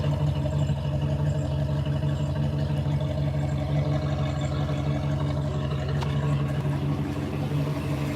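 A steady, low engine rumble runs the whole time, an old, rusting Chevy truck with low oil pressure idling nearby with a constant drone and no talking.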